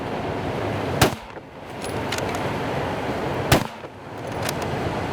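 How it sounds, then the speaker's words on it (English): Two sharp, loud rifle shots from a bolt-action Mossberg Patriot during a black bear hunt in a corn field. The cracks come about two and a half seconds apart, each fading quickly over steady outdoor background noise. "He racked around quickly in that bolt action Mossberg Patriot and sent another shot right through the bear's chest."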